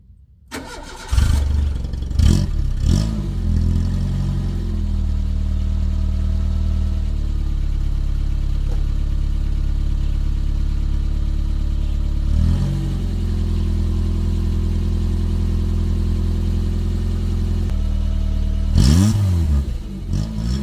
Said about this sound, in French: maintenant on va l'allumer